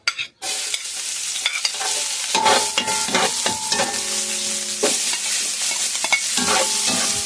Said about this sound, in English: To fry it up for like 2 minutes